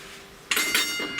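A bright metallic Melbourne tram bell clangs twice in quick succession, ringing out over a quiet background.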